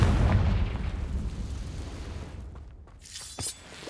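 A Confringo fire spell blasts in Hogwarts Legacy, a heavy low boom that rolls off over several seconds before a few sharp crackling bursts sound near the end.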